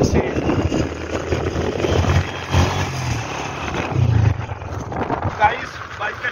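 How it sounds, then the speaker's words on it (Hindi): A motorcycle engine hums in the background while riding through a village, mixed with gusty wind buffeting the microphone; someone talks over it throughout. "गाइस बाइक का शोर आ रहा होगा, उसको इग्नोर करिए"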